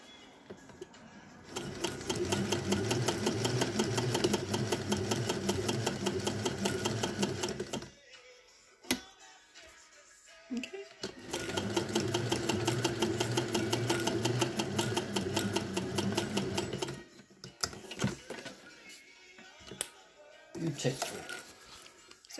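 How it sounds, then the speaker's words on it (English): A vintage Singer 201K sewing machine driven by a hand crank stitches in two steady, rapid runs of about six seconds each, separated by pauses with small clicks and handling sounds, close and fairly loud. "here we've got a lovely 201 running with a hand crank"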